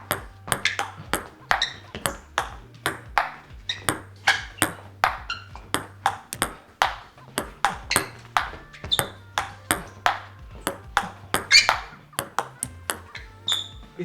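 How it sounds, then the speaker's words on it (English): A table tennis ball struck back and forth against a racket with long pimple rubber, a rapid, regular series of crisp hollow pocks at a rally pace, close by, with faint background noise between hits. "I like the sound of this racket. For me, it sounds so pleasant"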